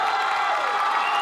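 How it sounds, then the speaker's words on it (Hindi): Audience at a school talent show grand finale applauding and cheering, a dense continuous wash of clapping and voices throughout, loud and steady without any break. "चलिए सब एक बार जोरदार तालियां"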